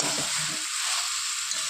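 Spice masala sautéing in a pan for rohu fish curry, a steady close sizzle and frying hiss with soft stirring scrapes underneath.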